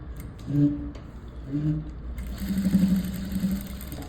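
Sewing machine stitching a folded blouse lining, short bursts of motor hum repeating in a stop-start rhythm, close and moderately loud with faint background noise.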